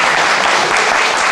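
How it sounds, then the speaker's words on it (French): Loud, dense applause from a gathered audience at a reunion event of a rehabilitation centre, a thick unbroken wash of clapping close by that continues for the full length. "je voudrais qu'on puisse applaudir et saluer les stagiaires"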